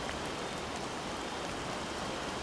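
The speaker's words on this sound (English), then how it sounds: "It is still raining too heavily." Heavy rain pours steadily in the Mystery of Neuschwanstein video game, a dense, even hiss of falling water that fills the entire stretch with no voices.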